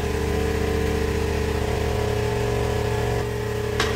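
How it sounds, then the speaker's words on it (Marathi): A water tanker truck's engine idles just outside a kitchen, a steady, fairly loud low rumble and hum running unbroken throughout, easing slightly near the end. "बाहेर टँकर आला पाण्याचा म्हणून आवाज येत नाही"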